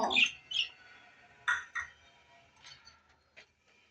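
Caged pet birds in a large cage let out about half a dozen sharp, short squawks, spaced irregularly and fairly close, with quiet gaps between calls.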